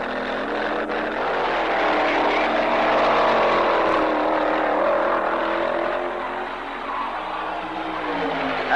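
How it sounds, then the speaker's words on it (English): A Dodge Dart and a Ford-powered dragster race side by side in a 1960s Super Eliminator drag run. A loud, continuous engine roar swells and shifts in pitch for several seconds, grainy and distant in quality. "Gene Snow in his rambunctious Dart. Jim Wofield running in the far lane in a Ford-powered dragster."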